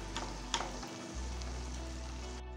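Malpua fries in oil in a pan with a steady, close sizzle and soft bubbling, a few brief crackles rising above the constant hiss, and no talking.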